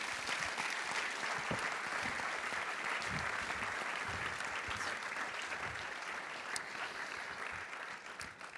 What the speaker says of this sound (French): je crois qu'on va pouvoir applaudir très très fort Romain Mornet.